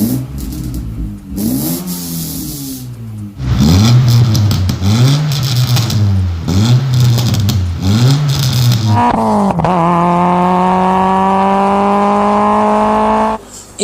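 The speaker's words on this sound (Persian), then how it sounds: "بریم صدای این 106 هم بشنویم این چطوره" A Peugeot 106 engine revs repeatedly through an exhaust muffler, loud rising-and-falling blips in a steady rhythm, then one long sustained high rev that holds before cutting off, close to the tailpipe with faint background voices.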